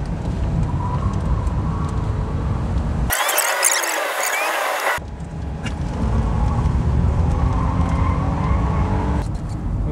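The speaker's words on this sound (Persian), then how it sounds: "من الان تو سرازیری لواسون هستم و با این دستیه ببینید که تعادل این ماشین چقدر بد یا خوبه" A manual Nissan Maxima rolls down a steep downhill road near Lavasan, with steady road and engine rumble from inside the cabin and a short squealing burst partway through.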